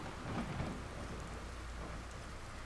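Steady rain pours through a thunderstorm in a Zelda video game, with a low rumble of thunder swelling early on and then fading under the continuous hiss of rainfall.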